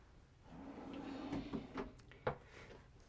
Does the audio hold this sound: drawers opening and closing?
yes